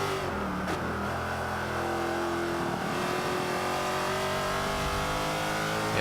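Jaguar XKR-S engine in Forza 5 racing at the Catalunya circuit, a steady loud drone holding high revs throughout with a brief shift dip near the start, continuous and alone.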